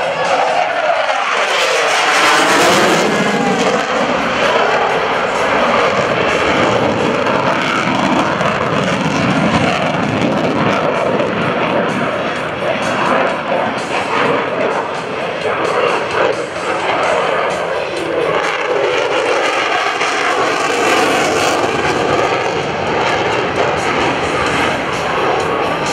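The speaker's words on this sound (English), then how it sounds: "At Show Center, he'll bank sharply and accelerate through a tight turn." An F-16CJ Fighting Falcon jet roars loudly through a sharp banked turn at an Air National Guard airshow, a sustained broadband howl that swells early and stays intense throughout, with faint crowd sounds underneath.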